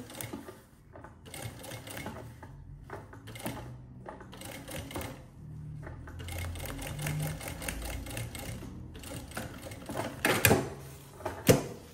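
A sewing machine stitches a seam in short stop-start runs of rapid mechanical clatter, close and moderately loud, with a couple of sharper clicks near the end.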